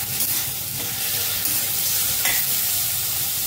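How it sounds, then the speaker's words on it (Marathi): Onion and tomato sautéing in a pan with a pinch of salt, a steady close sizzle with scraping stir strokes from a spoon running throughout, no voices. "टोमॅटो कांदा मऊ होण्यासाठी थोडंसं मीठ घालून ठेवते। आता पुन्हा परतून घेऊया चांगलं।"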